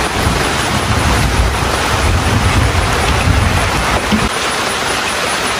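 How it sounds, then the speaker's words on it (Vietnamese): Heavy rain pours down in a loud, steady, unbroken hiss that lasts the whole stretch, with no voices over it. "Mưa quá mọi người về trú mưa đây."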